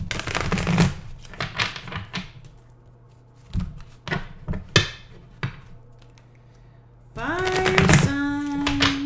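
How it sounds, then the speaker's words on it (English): A deck of cards is shuffled by hand during a live astrology reading, giving a string of quick dry riffling clicks and taps, followed near the end by a person talking. "Let's just shuffle your cards."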